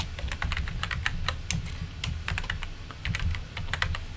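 Rapid, uneven keystrokes clatter on a computer keyboard during desktop layout work, close and steady for several seconds with no voices.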